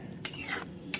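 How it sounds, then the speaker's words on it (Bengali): Spice paste with yogurt being stirred in a pan for Bengali katla fish rezala, with two sharp utensil scrapes against the pan over a faint low sizzle. "দইটা দিয়ে খুব ভালোভাবে কষাতে হবে মশলাটা। চলো খুব ভালো করে কষিয়ে নিই"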